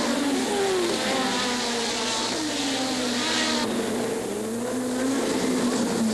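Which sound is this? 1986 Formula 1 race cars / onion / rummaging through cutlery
1986 Formula 1 race cars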